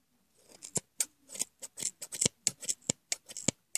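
Scissors snip through yarn loops to make a pom-pom for doll earmuffs, a rapid series of a dozen or more crisp, close blade clicks in an uneven rhythm with no talking.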